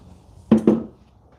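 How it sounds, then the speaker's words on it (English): A glazed ceramic bowl, fresh from a glaze kiln unload, gives two quick close knocks that ring briefly, each strike a bright tap with a short decaying tone, alone against a quiet room. "a nice stylistic bowl with a nice ring"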